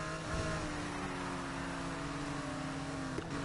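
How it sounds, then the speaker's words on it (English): A Mazda MX-5 engine in Need for Speed Heat holds a loud, sustained whine whose pitch climbs slowly, then shifts abruptly near the end. "MX-5 is coming back."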